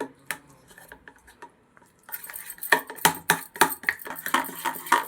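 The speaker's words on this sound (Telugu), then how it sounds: "మంచిగా ఉండలు లేకుండా కలుపుకోవాలి." A spoon stirs maska bun batter in a bowl, starting with a few light taps and then turning into quick, rhythmic clinks and scrapes against the bowl, close and clear with no speech.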